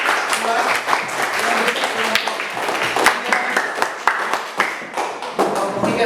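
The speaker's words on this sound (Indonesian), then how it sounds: "Tepuk tangan untuk kelompok 2." Classroom applause for a student group after its presentation, a steady patter of many hands clapping that runs throughout at moderate loudness.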